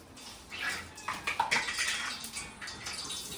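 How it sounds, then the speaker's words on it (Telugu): Cumin and mustard seeds sizzling in hot oil, a soft crackling hiss that swells and fades in uneven bursts, with an occasional faint pop, heard alone at low volume. "ఆయిల్ హీట్ అయిన తర్వాత జీలకర్ర ఆవాలు"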